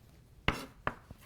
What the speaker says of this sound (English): that last end part that sometimes people throw away right here, you can cut up and use and utilize